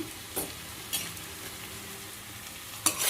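Onions fry in a pan as turmeric powder goes in, a soft continuous sizzle broken by a few quick stirring scrapes.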